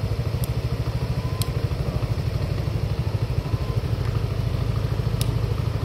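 A Yamaha Nmax motorcycle engine idles close by with a steady, rapid low thrum, accompanied by a few faint ticks.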